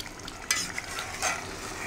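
Boiled eggs fry in masala for egg chicken biryani, with a soft steady sizzle and a couple of quick stirring scrapes of a spoon in the pan.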